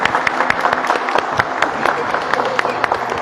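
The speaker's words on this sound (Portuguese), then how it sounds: "Vamos dar um salve de palmas para Giovana." A church congregation applauds for Giovana at a Sunday Easter-season Mass, a brief burst of lively, scattered clapping from the crowd, with voices mixed in beneath it.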